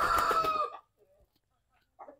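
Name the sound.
chickens clucking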